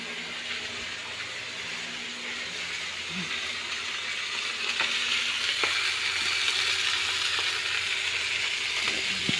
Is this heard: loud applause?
no